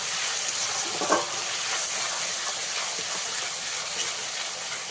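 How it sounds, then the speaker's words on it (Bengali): Ground paste of two medium onions frying in a pan, a loud continuous close sizzle with faint stirring scrapes and no talking. "পেঁয়াজটাকে খুব ভালো করে ভাজা ভাজা করে নিতে হবে"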